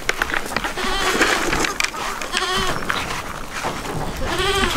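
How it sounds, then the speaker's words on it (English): Goats bleating on a farm at feeding time, several wavering bleats from nearby animals repeating over a few seconds, with a voice and light background noise around them. "The goats are starting to eat your food."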